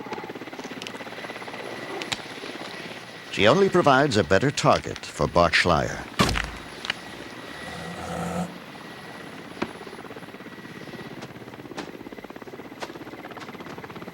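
A helicopter's steady drone runs throughout a tiger sedation operation in snow, with someone narrating over it and a brief burst of louder, rushing noise midway.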